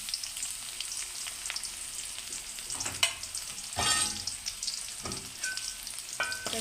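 Chopped onion goes into hot oil already seasoned with bay leaf, cumin and salt for a prawn curry. It crackles and sizzles steadily, with a louder burst of frying and several scraping stirs partway through.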